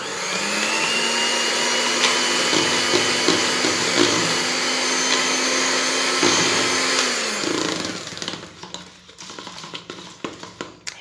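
An electric blender whirs steadily for about seven seconds while mixing eggless mayonnaise of powdered sugar, vinegar and refined oil, a loud high motor whine that then cuts off, followed by faint clattering.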